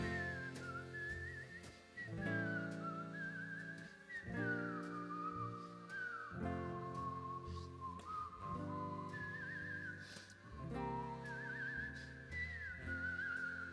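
A clear, melodic whistled tune with bouncy phrasing, accompanied by music in the background.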